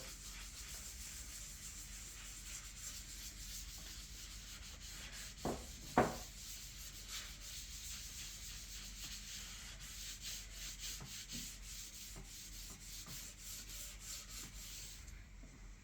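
A cloth rubs oil finish into a spalted beech serving board, a soft continuous close-up scrubbing and rubbing with a couple of brief knocks early on and no talking.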